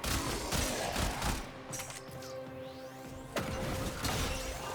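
Rapid weapon fire from a charged Incarnon weapon in the shooter game Warframe comes in dense bursts at the start and again near the end, with mechanical whirs and metallic tones ringing between the volleys.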